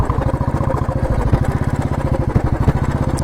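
A parked motorcycle engine idles near a glass bridge parking area in Coorg, with a steady, close, loud put-put pulse repeating evenly throughout and no talk over it.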